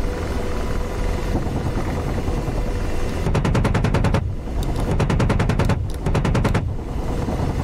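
Helicopter gunship gunfire in the DCS flight simulator: a constant rotor drone underneath, broken by two long rapid machine-gun bursts in quick succession, loud and close.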